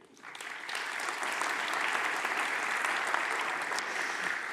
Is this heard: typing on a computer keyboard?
no